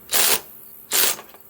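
RIDGID subcompact right angle impact wrench loosening a bolt, two short loud bursts of hammering close by separated by a brief pause, with no talk.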